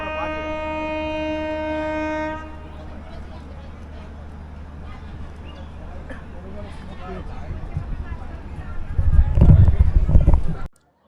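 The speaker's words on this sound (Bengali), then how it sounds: "Overtake Shatabdi express." The NJP–Howrah Shatabdi Express overtakes on the down line toward Howrah: a sustained horn-like tone opens, then a rumble builds steadily into a loud, close rushing roar before cutting off.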